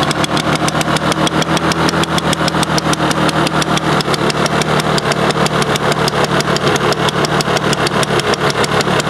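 A Toro 21-inch Proline mower with a Suzuki engine runs stuck on choke, a loud, steady, fast-firing putter at high RPM that holds evenly and close up with no talking.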